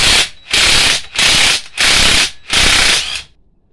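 Air ratchet zipping off the strut top nut on a 2009 Renault Megane, five loud close bursts of rapid rattling with short gaps, then quiet.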